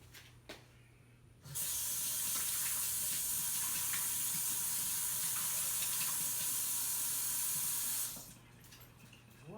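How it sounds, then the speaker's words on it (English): Water runs steadily from a kitchen sink tap for about six seconds while hands are washed during cookie baking, with a soft hiss, then shuts off; light handling sounds before and after. "let me wash my hands"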